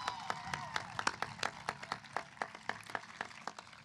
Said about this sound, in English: Graduates, would you please give your parents, families, and friends and community members a warm round of applause